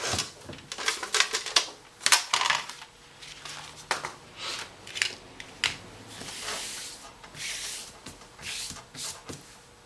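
Scissors snip and trim a paper border piece in a series of irregular, close, crisp cuts with rustling between them, no talking.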